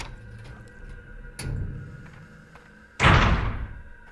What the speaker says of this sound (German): Abzug drücken, um die Tür zu öffnen.